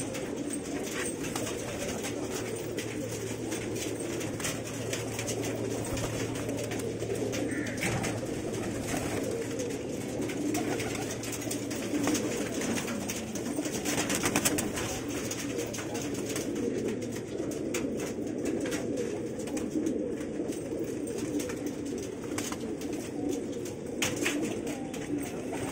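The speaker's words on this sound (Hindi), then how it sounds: "देख ले साइज देखने का कबूतर का" A large flock of pigeons coos steadily and continuously throughout a pigeon-flying competition loft, with a dense, murmuring chorus and no voices heard.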